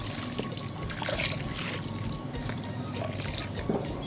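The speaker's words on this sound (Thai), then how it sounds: "เทน้ำยาหนึ่ยงรางลงไปแล้วก็ ผสมคลุกเข้าให้เข้ากันนะครับ" Rooting hormone solution poured into water for mixing a cutting medium, a steady close trickle and dribble of liquid running continuously at moderate level with no talking.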